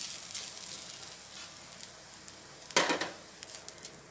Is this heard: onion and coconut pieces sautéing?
yes